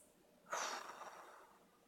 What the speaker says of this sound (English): Singing breath.